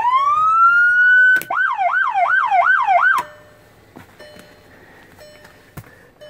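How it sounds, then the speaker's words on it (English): An unmarked police Volkswagen Jetta's siren wails in a rising tone, then cycles through five quick yelping sweeps before cutting off, leaving quiet background noise with faint clicks. "And then this turns on the siren."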